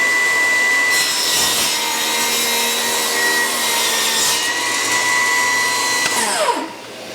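A Milwaukee M18 Fuel cordless table saw cuts 3/4 inch pine at a 45-degree angle: a loud, steady whining rip through the wood, then the blade brakes and spins down quickly at the end.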